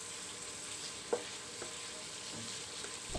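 White onion sautéing in a pan, a steady soft sizzle of frying with a few faint scraping stirs, heard alone at low volume.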